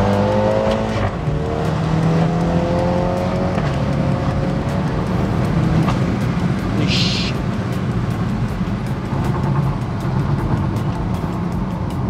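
BMW X2 M35i engine pulling hard under acceleration through aggressive upshifts, a loud continuous drone with rising pitch sweeps and brief shift breaks, heard from inside the car over road noise.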